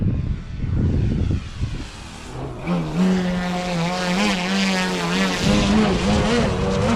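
A Pilot Extra 330 SC radio-controlled aerobatic airplane from Pilot RC USA, weighing 8.8 pounds, its gas engine droning steadily and rising in pitch as it revs up close by.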